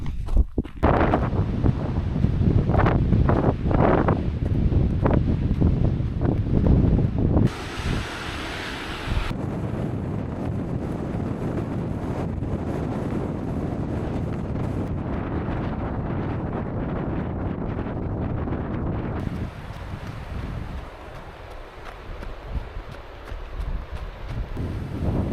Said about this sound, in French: j'ai le vent dans le dos